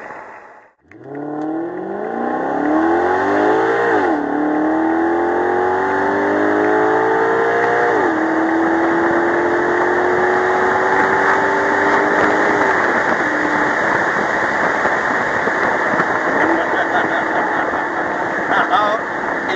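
A 2014 Maserati GranCabrio Sport engine revs loudly and close, rising in pitch through several sweeping pulls before settling into a sustained high roar that holds on alone.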